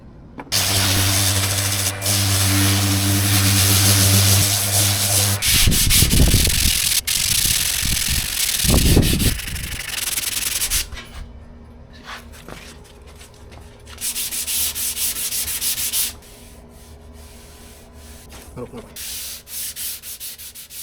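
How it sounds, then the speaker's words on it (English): Sanding of body filler on a car door with 180 grit paper, loud steady rasping strokes in long runs with short pauses, close and alone. "We are sanding with 180 grit now to refine the filler"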